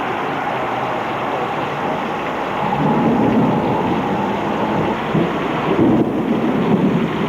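A July 1987 thunderstorm over the Twin Cities metropolitan area fills the air with steady, loud rain and rolling thunder, the rumble swelling midway and again near the end with no voices.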